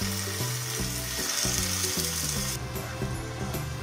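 Masala sautéing in two spoons of oil in a hot kadhai over medium heat gives a steady, loud broadband sizzle throughout, with a low tonal hum running underneath.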